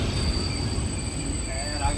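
A Bulgarian night train rolls along with a loud, steady rumble and rail noise, a constant high whine running through it, and a voice talking over it.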